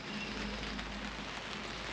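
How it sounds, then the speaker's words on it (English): Steady rain falling outdoors during a truck bumper install, a dense even hiss of drops on surfaces, constant and moderately close with no talking. "Sorry, it decided to rain again."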